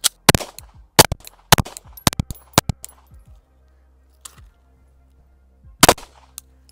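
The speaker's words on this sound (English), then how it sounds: "First up, let's shoot the P365 XL" A Sig P365 XL pistol fires a string of about eight sharp, loud shots at an uneven pace, each crack leaving a short ringing tail, with a longer gap before the last couple of rounds.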